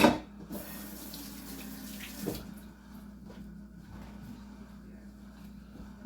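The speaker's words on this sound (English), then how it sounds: "Rinse my hands real quick." A kitchen faucet runs steadily into a sink while hands are rinsed under the stream, with a brief louder splash partway through and the flow continuing through to the end.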